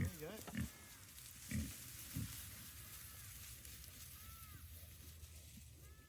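Pigs on a sustainable, regenerative farm grunt in a few short low bursts nearby, over outdoor background noise, while people talk.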